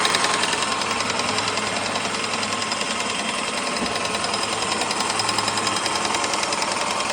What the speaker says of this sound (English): Airless paint sprayer, fantastic bits of kit.